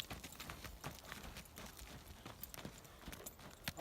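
Horse hooves clip-clop at a steady riding pace on a training circle, heard faint and a little distant as a soft, irregular series of thuds.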